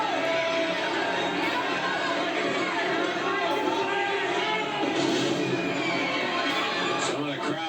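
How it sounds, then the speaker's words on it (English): Crowd at a wrestling arena hollering and chattering, a dense, continuous wash of many voices with scattered shouts rising above it, heard from within the audience. "Some of the crowd hollering"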